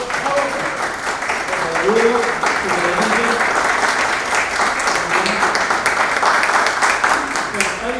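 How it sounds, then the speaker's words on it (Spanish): An audience at a talk about comic-based documentaries applauds continuously for a guest, dense even clapping with some voices murmuring underneath throughout. "Un aplauso para Ignacio."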